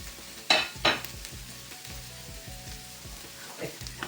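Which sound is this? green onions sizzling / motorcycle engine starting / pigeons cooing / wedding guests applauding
green onions sizzling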